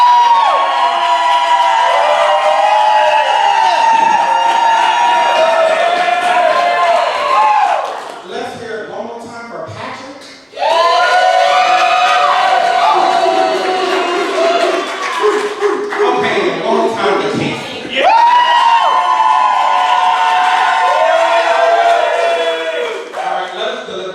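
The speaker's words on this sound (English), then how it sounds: "Audience, round of applause." A roast-battle audience cheers and whoops in loud sustained bursts, voices mixing into a roar that breaks off briefly twice before surging again.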